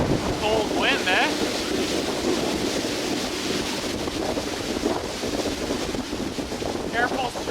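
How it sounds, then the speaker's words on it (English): Cold wind gusting across a remote wilderness island, a constant loud roar buffeting the microphone with a faint wash of water underneath throughout. "Cold wind, eh?"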